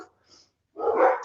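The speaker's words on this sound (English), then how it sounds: "I'm sorry about the dogs." A few dogs barking indoors. One faint yip comes first, then a short pause, then a louder, rough burst of barking that lasts about half a second.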